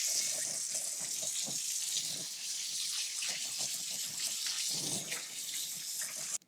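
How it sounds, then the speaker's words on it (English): Hands being washed under a running kitchen tap: a steady close rush of water broken by splashes as the hands move, ending abruptly when the flow shuts off. "me wash my hands real quick."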